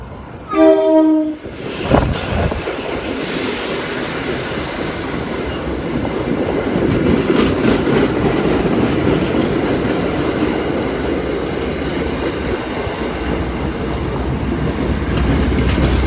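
A train passes at a railfanning spot, opening with a loud blast of its horn, then a long rumbling roar of cars and clacking wheels that stays steady and fairly close to the end.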